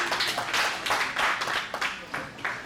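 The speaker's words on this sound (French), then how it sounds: "Merci d'applaudir pour ça, mesdames et messieurs." An audience at a single launch press conference claps, a short burst of uneven hand claps in loose pulses, moderately close, with a voice audible underneath.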